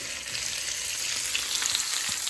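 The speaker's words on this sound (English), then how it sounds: "I'm going to saute down this pretty good." Sausage meat sautés in a pan, giving a steady, close, bright sizzle that continues evenly without any talk.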